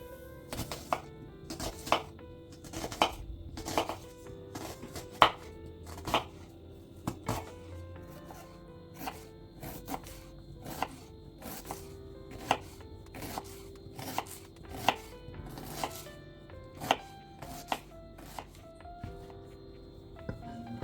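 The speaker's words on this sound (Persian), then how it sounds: "پیاز رو ریز ریز خوردش میکنم" A knife finely dices onion on a cutting board, a long run of crisp, close chopping taps in uneven bursts, some quick and clustered, others spaced apart, with no talk over them.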